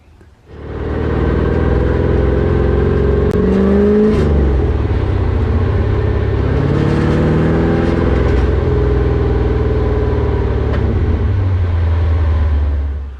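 A lowered car on a test drive, its engine heard from inside or close by as a loud steady drone with gear changes and revs rising and falling, then easing to an idle near the end.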